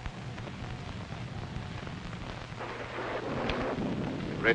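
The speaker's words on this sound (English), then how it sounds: "It's liable to rain all night." Steady rain with low rumbling thunder on a stormy night, a continuous wash of rainfall under a rolling low rumble that swells slightly louder toward the end, with no voices.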